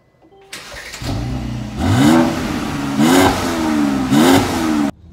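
A 2020 Mercedes-AMG GLC 43 engine starts and revs in three rising blips, each a loud, rough surge that climbs in pitch, then cuts off abruptly, close and unaccompanied by voices.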